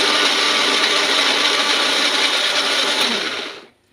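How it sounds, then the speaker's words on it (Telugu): Tomatoes whir in a kitchen mixer grinder, one loud, steady motor roar with a dense chopping texture that runs unbroken for nearly four seconds, then spins down and cuts off near the end. "ఈ టమాటా మనం మిక్సీ పట్టుకుందాం"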